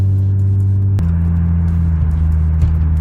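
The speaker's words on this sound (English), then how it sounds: "Now we're going to go test drive it." A lifted Nissan 350Z/G35 on a test drive gives a steady low engine drone and road rumble from inside the cabin, loud and continuous, with the engine note shifting slightly about a second in.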